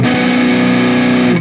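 Distorted electric guitar played through a NUX MG-30 processor on a Marshall amp model, a crunchy sustained chord ringing loud and steady for over a second before cutting off.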